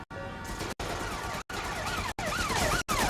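An ambulance siren wails in Watch Dogs: Legion, loud and close with rising and falling sweeps, chopped into short bursts by brief silent gaps.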